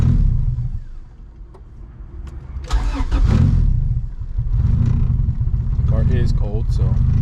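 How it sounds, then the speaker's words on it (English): A Honda EG hatch with a turbocharged B-series engine cranks on the key and catches, then settles into a loud, steady rumble close by, with a voice speaking over it. "So this is how it's going to start with the key."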